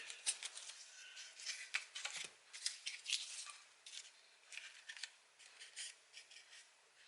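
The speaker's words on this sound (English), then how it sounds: "cut off our excess tape, which we don't really need." Scissors snip off excess tape during a guitar neck build, a quiet run of short crisp cuts and rustles repeating irregularly through the clip, close and alone with no talk.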